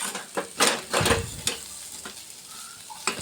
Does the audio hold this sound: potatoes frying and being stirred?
yes